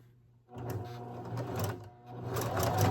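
A sewing machine stitching a patriotic American flag quilt top, starting after a brief quiet moment and then running steadily with a close mechanical whir and rapid needle clatter.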